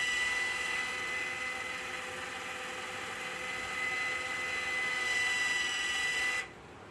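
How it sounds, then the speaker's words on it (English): A 5900-BT Pro-OX iron filter control valve cycles into backwash with a steady whining motor hum and rushing water, close and constant, then cuts off abruptly near the end. "you can hear the valve go into the backwash"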